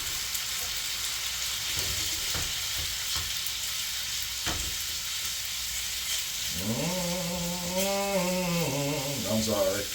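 Pasta sizzles and fries steadily in a hot pan as a splash of white cooking wine goes in, a continuous hiss near and moderately loud, with a voice talking over it in the closing seconds.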